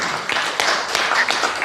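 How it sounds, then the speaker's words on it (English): An audience at a public town hall meeting in Gumeracha, South Australia claps, a short burst of scattered hand claps from a small crowd, fairly close and irregular, without speech over it. "give them a clap"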